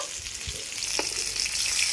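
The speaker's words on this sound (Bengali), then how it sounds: "বেগুনগুলো একদিক ভাজা হয়ে গেছে, এবার উল্টে পাল্টে ভালো করে ভেজে নেব।" Eggplant slices fry in hot oil in a wok, giving a steady close sizzle with a few faint scrapes as they are turned.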